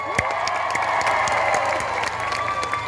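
A crowd at a party-list grand rally in Pitogo, Quezon, cheering, shouting and clapping continuously, a loud dense roar of voices with scattered sharp claps.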